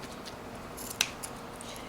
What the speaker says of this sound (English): we're going to take our snip scissors and we'll snip either side.